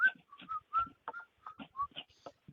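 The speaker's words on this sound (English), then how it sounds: "he comes whistling in." A man whistles a lively, bouncing tune of short notes and quick slides as he walks into a church gym, close and clear, with brief pauses between phrases.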